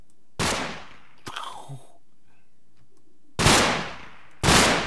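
A Titanfall mech's gun fires in Minecraft: three loud, separate heavy blasts, each decaying quickly, with a short mechanical clatter and whir between the first two.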